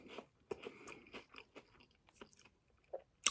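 Dry Frosted Flakes glazed donut cereal crunches up close in a series of sharp, irregular bites and chews, fairly quiet with short pauses between.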